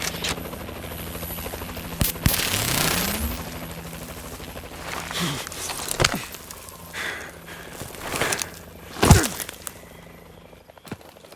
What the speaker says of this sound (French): L'hélico s'éloigne.